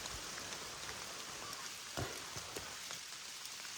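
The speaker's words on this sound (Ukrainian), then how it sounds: "Щось дощ посилюється, грибів нема." Rain patters steadily in a lowland Carpathian forest, a soft continuous hiss with scattered nearby drops striking leaves, fairly quiet and alone.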